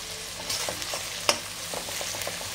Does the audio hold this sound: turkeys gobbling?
no